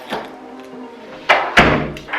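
An apartment door is shut, with a soft bump followed by two sharper thuds close by.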